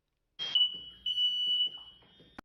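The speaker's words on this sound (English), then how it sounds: "Got the smoke detector going off." A smoke detector shrills with a steady high-pitched electronic tone for about two seconds, with a brief pause, loud over faint background voices and clatter indoors.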